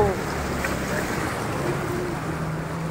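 Floodwater after a day of heavy rain rushing into a street in Uttarkhan near a CNG pump, a steady close broadband roar of flowing water with wind buffeting the microphone.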